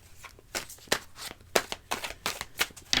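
Tarot or oracle cards being shuffled in quick riffling bursts, several short rapid flurries in a row, close and crisp, with no speech.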